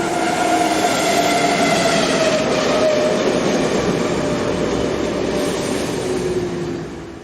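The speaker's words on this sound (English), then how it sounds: "as an early morning commuter train arrives on the service for Tours" An early morning commuter train on the classic Orléans–Tours main line arrives at Amboise station in May 2003, a loud, continuous rumble with sustained squealing tones from the wheels that eases off only in the final moments.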